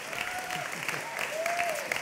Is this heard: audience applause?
yes